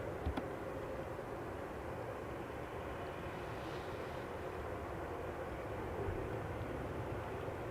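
Airliner arriving from Toulouse at Amsterdam Schiphol runway 18R, a steady, distant broadband engine roar that holds level throughout, faint and with no talking.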